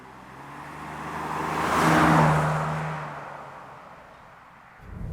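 A BMW E39 530i drives along a road, its engine and tyre roar swelling to a peak midway and then easing back to a steady hum.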